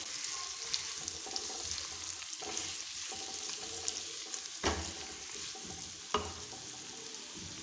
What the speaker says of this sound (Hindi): आलूओं को थोड़ा सा फ्राई करेंगे।